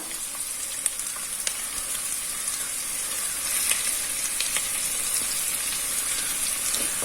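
Chicken pieces frying in a pan for Kerala-style chicken molee give a continuous close hiss and sizzle with faint crackles, steady throughout with no talking.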